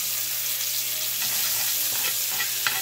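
Steak sizzles steadily in a pan with butter, garlic, bay leaves and a habanero pepper, a continuous close frying hiss broken by a few soft stirring clinks and pops.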